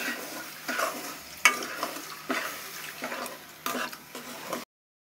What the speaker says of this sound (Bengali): এবং দুধটা আস্তে আস্তে ঢেলে দিতে হবে।